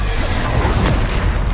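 Bombarda blasting spell explosion in Hogwarts Legacy, a dense rumbling boom that fills the short moment at steady loudness, with a voice faintly mixed in.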